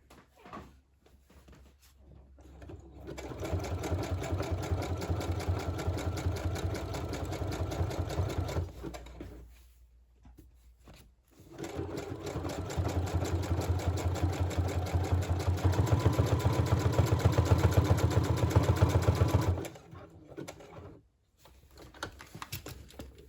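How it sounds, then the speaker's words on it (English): A sewing machine runs zigzag stitches across a fabric journal cover in two long steady bursts, separated by short pauses, with a close, even mechanical whir and no talking. "Same thing with this one, just zigzag."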